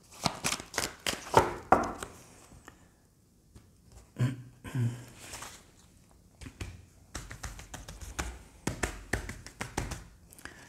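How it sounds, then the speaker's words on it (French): Tarot and angel oracle cards are shuffled by hand in repeated bursts of quick riffling and soft taps, close up, with short pauses between rounds. "je vais prendre quelques cartes aussi des anges de l'amour"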